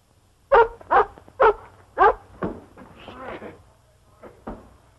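A dog barks in a quick run of four loud, evenly spaced barks, then gives a few softer yips and whines, with a voice and some background chatter mixed in.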